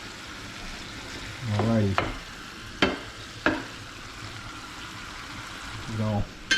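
Noodles being stirred into a pan of nearly finished food, with a steady frying sizzle and several scraping stir strokes; a voice speaks briefly.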